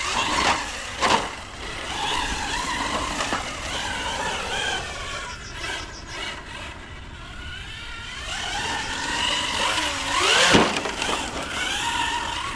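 A Hobao Hyper 10SC 2.0 RC short course truck runs outdoors, its high-pitched electric motor whining and rising as it speeds by, with brief surges and tire scrabbles, near then passing farther away, with no talking.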